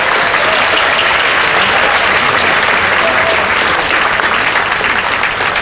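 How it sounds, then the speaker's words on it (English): Loud, sustained applause from a crowd at the Tanforan Memorial ribbon cutting ceremony in San Bruno, California, a thick continuous roar of clapping close by, with no speech over it. "big round of applause once again to Doug Yamamoto."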